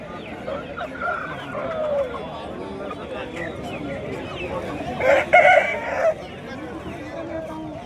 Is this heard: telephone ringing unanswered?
no